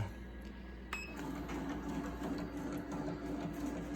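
An embroidery machine starts to stitch, its needle setting up a steady rapid mechanical patter after a brief click, running continuously and close by.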